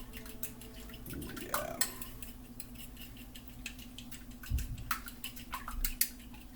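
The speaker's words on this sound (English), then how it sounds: "We're going to whisk that up good." A fork whisks eggs with Dijon mustard, salt and pepper in a bowl, giving faint, quick metallic taps and scrapes against a steady background hum; a voice speaks briefly.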